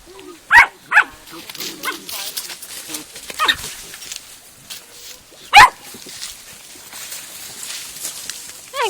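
A dog barks near pigs in muddy ground outdoors, giving a few sharp, close yelps among faint snuffling and background noise, with scattered voices in the distance.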